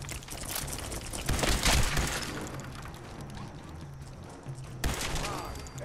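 Gunfire in Fallout 4: Far Harbor comes as several sharp bursts and rattling shots with a denser volley near the middle and another crack near the end, mixed with game ambience and a player talking.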